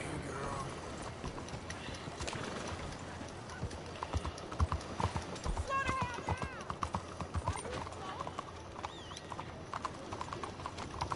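Horse hooves clip-clop at a steady trotting rhythm in Red Dead Redemption 2, with an occasional whinny and a player talking over the gameplay.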